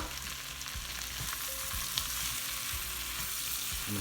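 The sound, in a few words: potatoes frying in butter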